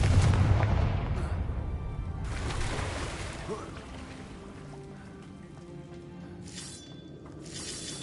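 The Confringo blasting spell fires in a Harry Potter video game, a loud booming burst at the start that rumbles and fades, with smaller crackling bursts later.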